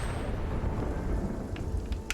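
Heavy rain pours steadily during a thunderstorm in Spiritfarer, with a low rumble of thunder underneath and a few sharp, bright drips near the end.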